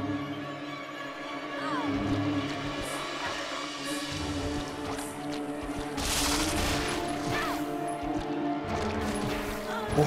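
Handgun gunfire in Resident Evil Zero rings out in scattered shots over a busy, droning game soundscape with continuous tonal background layers, the shots mid-loud and irregularly spaced.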